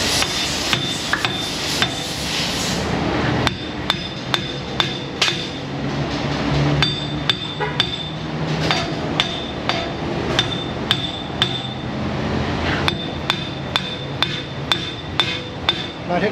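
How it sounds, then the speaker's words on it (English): A hammer strikes the suspension studs on a Toyota Tacoma in a repair shop, with repeated sharp metallic blows coming in quick bursts separated by short pauses, loud and close. "Make a racket hitting the studs first."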